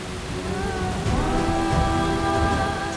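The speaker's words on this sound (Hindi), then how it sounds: "ऐसे में बारिश के पानी में भीगना उसके लिए अच्छा नहीं है" Steady rain pours down outdoors in a Hindi family drama scene, a dense continuous hiss filling the whole stretch at moderate loudness, with faint tonal ringing layered above it and no speech.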